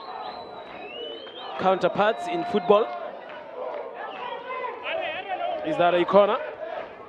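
Spectators cheer and chatter at a women's under-20 football match, Botswana versus Namibia in a COSAFA third-place playoff, with two louder swells of crowd noise rising under steady commentary.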